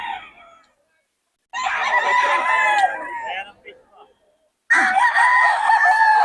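A stag, a young gamecock, crows loudly and close twice, each long hoarse call separated by a short silence, with a brief softer call at the very start.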